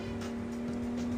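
A police car drives in the video game Grand Criminal Online, its engine giving a steady, even drone throughout the short stretch with no change in pitch.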